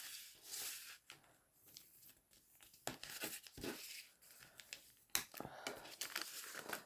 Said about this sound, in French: Donc là, mon plioir, il est ici. Donc, je marque bien les plis là.